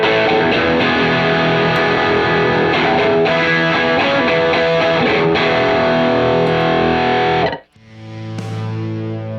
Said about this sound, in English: Then you can compare the distortion mode.